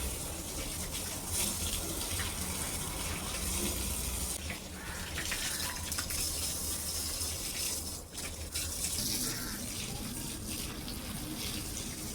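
Water from a tap pours steadily into a bucket at home, a constant gushing rush that runs without pause.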